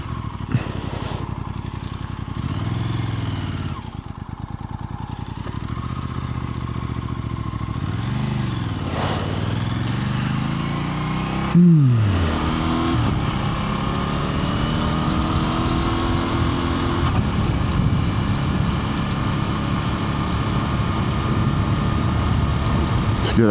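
A 2024 Aprilia RS660 Extrema being ridden, its engine droning and rising and falling through gear changes and throttle sweeps, with a sharp rev spike midway and steady wind rush throughout.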